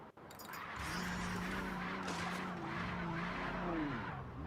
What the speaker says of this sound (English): Car does not sound good.